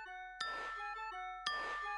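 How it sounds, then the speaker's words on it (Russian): Two melodic chime strikes like little bells ring out in a Family Guy cartoon scene, each a bright ding-dong with sustained tones that fade before the next, spaced about a second apart, clear and close. "Звучит мелодично, да? Как гимн колокольчиков."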